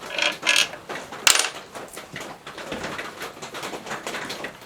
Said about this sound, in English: Pull the bolt out of the back here.